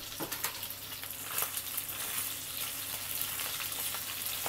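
Sliced onion for ginger pork shogayaki hisses in a hot pan with the pork, a steady close sizzle with light crackles and faint stirring scrapes.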